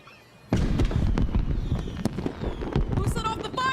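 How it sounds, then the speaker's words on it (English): Fireworks burst and crackle in a dense, loud barrage in the game Honor of Kings, with sharp pops layered over rumbling booms and rising whistles near the end. "Who set off the fireworks?"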